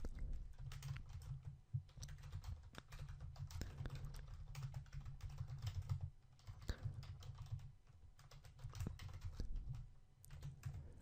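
Rapid typing on a computer keyboard while code comments are written, a dense run of soft key clicks with brief pauses, steady and close throughout.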